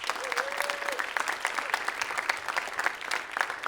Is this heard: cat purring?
no